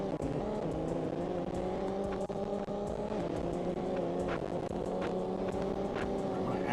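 A car engine in a racing video game drones loudly and continuously, holding a steady revving tone with no pauses.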